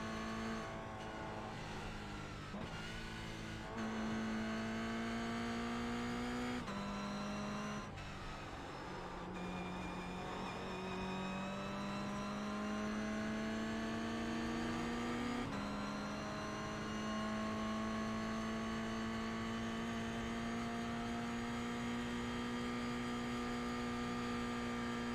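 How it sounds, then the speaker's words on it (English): A race car engine drones in a VLN endurance race on the Nürburgring Green Hell in a racing game, a steady tonal whine shifting pitch with gear changes over a quiet backdrop, fairly faint and without talking. "There's a faster car approaching."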